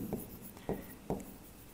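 A hand writes out a definition in short strokes. Three distinct scratchy marks sound up close and quiet, separated by brief pauses of near silence.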